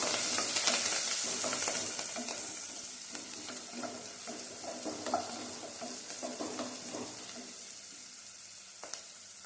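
Curry leaves and small onions sizzle steadily in a hot pan, the frying hiss continuous and fairly close, with occasional scrapes and stirring clicks as the mix is sautéed.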